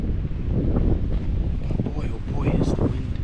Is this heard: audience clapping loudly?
no